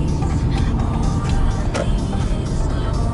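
A car pulls out after braking and slowly gathers speed, its engine a steady broadband rumble close by, with no voices over it.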